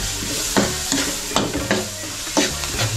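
Onions fry in a pan under a steady close sizzle, while a utensil scrapes and stirs in four or five distinct, evenly spaced strokes; no one speaks.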